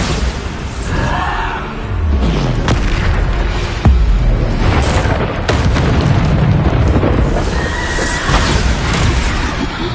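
Booming spell blasts from Bombarda in Hogwarts Legacy erupt repeatedly, heavy explosive bursts layered over constant game noise and a horse-like whinny, loud and dense throughout.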